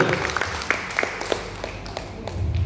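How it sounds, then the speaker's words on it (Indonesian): An audience claps in a brief, scattered round of applause at a talk about MLM business, the claps fairly close and uneven. "Tepuk tangan untuk Anda yang sudah bergabung"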